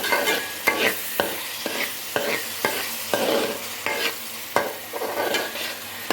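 Onions sauté in a pan for a fish curry, a close, moderately loud sizzle punctuated by regular sharp scrapes and taps of a stirring spoon roughly every half second, with no voices.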